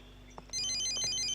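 A mobile phone ringtone rings in a classroom, a bright electronic melody of rapid repeated notes that starts abruptly after a couple of faint knocks and plays steadily at moderate volume, with no talk over it.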